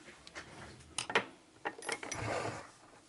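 Screws being tightened with a small driver on a TLR 8ight-E 3.0 RC car, quiet close clicks and ratcheting twists in short irregular bursts, with handling noises and no talking.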